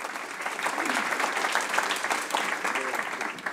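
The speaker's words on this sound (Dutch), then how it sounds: "Applaus." Audience applause at an evening talk on nature, health and conservation, a dense, steady wash of many hands clapping throughout, with faint voices mixed in.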